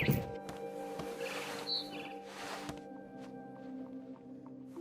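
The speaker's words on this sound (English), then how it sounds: "Then I heard chirping outside my Oí window. trinos fuera de la ventana. It was a barn swallow going back to her Era una golondrina que nest." Faint barn swallow chirps in What Remains of Edith Finch, a few short tweets over a quiet game ambience with soft background tones.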